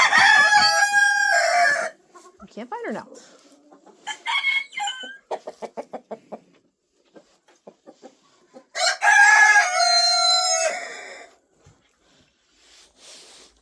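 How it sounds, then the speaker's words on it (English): Hedemora chickens cluck in a coop while a rooster gives two loud, drawn-out crows, with bursts of rapid clucking between them, close by, and a brief spoken phrase. "she's the most cold-hardy breed of chicken."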